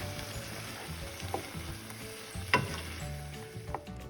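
Onions softening as they fry in a pan, giving a steady close sizzle with a few sharp stirring clicks and scrapes.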